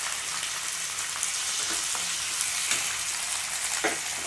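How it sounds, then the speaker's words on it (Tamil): Tomatoes sizzle and fry in a pan with oil, ginger-garlic paste and spices for a Tamil chicken fry, a steady close hiss broken by occasional stirring scrapes and pops. "இப்போ தக்காளி போட்டுக்கோங்க"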